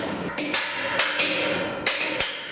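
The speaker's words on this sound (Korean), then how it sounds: "경쾌하게 울리는 망치소리" Hammer blows ring on the steel mast of a tower crane as a new mast section is fixed during a climbing operation: about five sharp metallic strikes, spaced irregularly, close and loud, with no voices.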